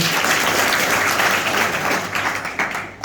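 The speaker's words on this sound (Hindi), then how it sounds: "तालियां बजाइए उनके लिए।" Schoolchildren and audience at a special school program clapping together, a dense continuous burst of applause that stays loud and then tapers near the end.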